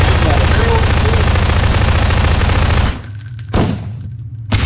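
Gunfire in the Prop Hunt video game, a loud, dense stream of rapid shots that cuts off abruptly, followed by a couple of isolated sharp bangs.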